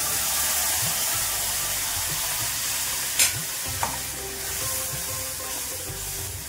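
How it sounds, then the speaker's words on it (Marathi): Ground spice paste for raw mango curry sizzling and frying in a pan, with a steady crackle and occasional scraping stirs of a spoon, close and fairly loud. "हे थोडंसं परतून घ्यायचं आहे आपल्याला आता वाटण 2 मिनिटासाठी"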